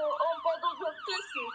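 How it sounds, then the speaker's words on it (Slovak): An ambulance siren wails in a Roblox game, a rising and falling electronic tone that repeats rapidly at moderate volume. "Už opäť počujem sirény."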